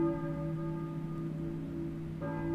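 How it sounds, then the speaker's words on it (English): Sustained church bell tolling in the Silent Hill video game, a steady resonant hum with long ringing overtones throughout, alone without talk, with a fresh strike near the end. "a church bell, I think, but who is ringing it?"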